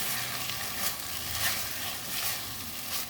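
Spices and chili powder sautéing in a pan for a pointed gourd and shrimp dish, a continuous close sizzle with faint stirring and no talk.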